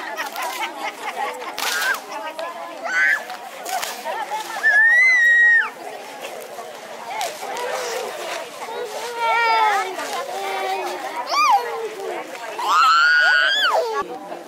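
A large crowd gathered outdoors in Kenya, waiting for health services, fills the scene with a busy hubbub of overlapping voices, shouts and calls, and children's cries rise above the steady babble.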